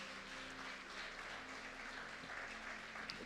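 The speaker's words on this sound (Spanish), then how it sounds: "Denle un aplauso fuerte a Dios." A church congregation at a Sunday family-day service applauds for God, a faint, steady spread of clapping heard at a distance over a low, constant hum.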